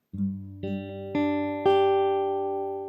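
Four plucked guitar notes of a fingerpicking exercise in G ring out one after another at an even pace, each layering over the last and sustaining into a fading chord.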